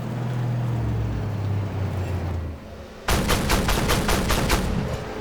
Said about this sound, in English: A few shots on that light tank.